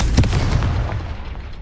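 A single heavy blast from the Confringo spell in Hogwarts Legacy hits hard at the start, then its rumbling boom trails off over the next second.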